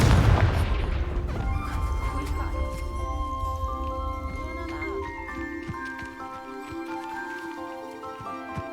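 A deep, booming blast from the Confringo explosion spell in Hogwarts Legacy opens loud, then decays into a long rumbling tail under a soft, steady game ambience and music.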